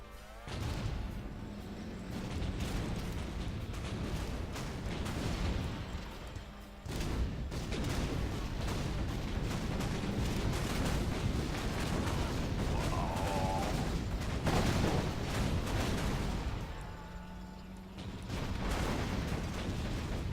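Sniper cannons firing in a Contra mod game, heavy booming blasts and explosions piled into a continuous roaring barrage that barely lets up, with no one talking.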